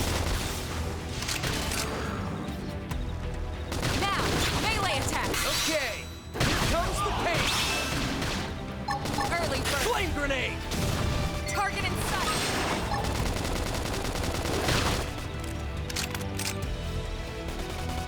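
Battle gunfire in Xenoblade Chronicles X, scattered shots and impact booms mixed with music and combat effects, dense and loud throughout, with a brief dip midway; voices call out over the fight.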